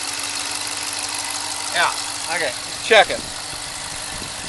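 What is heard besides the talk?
2014 Dodge Charger police cruiser engine idling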